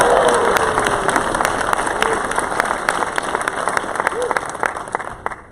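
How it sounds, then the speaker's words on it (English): Concert band audience at an anniversary concert applauds loudly with scattered screams and cheers, a dense sustained wash of clapping that gradually thins out toward the end. "let's all scream and clap for the mothers"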